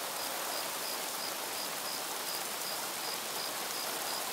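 Rain falls in the video game Craft The World as a constant, full-bodied hiss that holds steady throughout, unbroken by talk.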